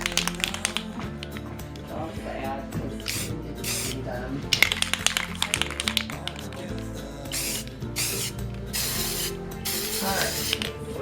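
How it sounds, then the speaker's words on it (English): Repeated hissing bursts of spray paint, some short and some drawn out, close by, with faint tapping and rattling between the sprays. "I'm notorious for spray painting where spray paint should not be."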